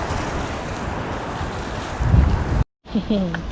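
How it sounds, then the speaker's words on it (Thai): Strong wind buffets a microphone outdoors on a blustery day near Whitby, England, a steady loud roar that swells near the end, cuts out briefly, then returns under a faint voice. "วันนี้ลมแรงมาก ๆเลยนะคะถ้าว่าลมเข้ามาในไมโครโฟนก็ขออภัยด้วยนะคะ"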